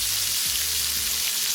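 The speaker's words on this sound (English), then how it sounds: "Saute our onions in the" Onions sauté in fat in a pan for hamburger steaks and gravy, giving a steady, close hiss of frying that stays even and unbroken throughout.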